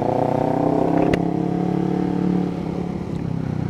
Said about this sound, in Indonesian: Emang gak ada yang bisa menampik kegarangan mesin MT25